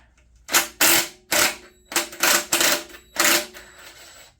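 Ratchet wrench with a 10 mm socket working loose the oil drain plug on a non-running Honda EG1400Z generator: six or seven loud, sharp clicking bursts in an uneven rhythm, close by and without any talk.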